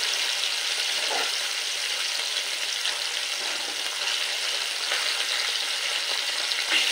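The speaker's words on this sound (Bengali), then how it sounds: "এবার পরের ব্যাচটাও ভেজে নেব।" Pieces of piali fish fry in a pan for a tomato fish curry, giving a continuous, fairly loud hiss and crackle of hot oil that stays even throughout with no talking.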